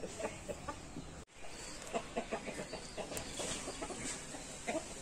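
Rooster being dusted with anti-mite and lice powder, giving repeated soft clucks close by in short irregular bursts, with handling noise and one brief cut in the sound.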